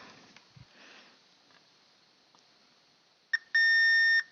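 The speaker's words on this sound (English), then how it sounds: "And we have a beep." A short blip, then a steady electronic beep from a continuity tester holding for about half a second, clear and close in a quiet room.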